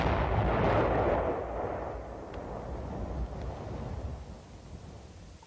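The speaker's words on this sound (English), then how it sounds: "Bangalore torpedoes, shaped charges, cratering charges, or similar special purpose charges may be used in total tunnel destruction." Explosive charges such as Bangalore torpedoes, shaped charges or cratering charges detonating to destroy an enemy tunnel in 1969, a heavy deep blast that swells at once and then rumbles and decays over several seconds, loud, with no voices.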